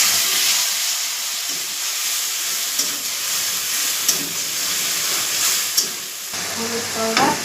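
Ground spice paste sizzles in a pan with fried onions, dried red chilies, bay leaves and cumin, a loud steady hiss broken by occasional scraping stirs and knocks, with a faint tonal sound near the end.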